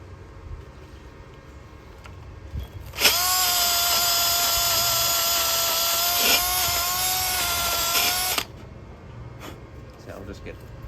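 A power drill runs steadily for about five seconds during an engine swap, starting and stopping abruptly with a loud whine, while faint background noise continues before and after.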